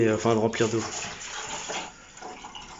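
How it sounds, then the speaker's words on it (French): Water is poured from a container into a hollow in a garden, making a close splashing, gurgling flow that starts under a man's speech and fades toward the end. "je vais mettre de l'eau dedans là comme ça"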